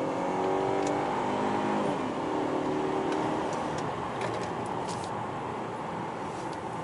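A Mercedes E 250 CGI running on LPG pulls away with its engine revving, a rising drone heard from inside the car that climbs, shifts once and fades into a steadier road rumble with faint clicks.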